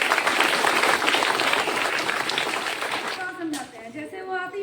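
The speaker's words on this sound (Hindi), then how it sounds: "उनके लिए ताली बजा दीजिए" Students in a school assembly break into loud applause, a dense burst of clapping that fades after about three seconds and gives way to a speaking voice.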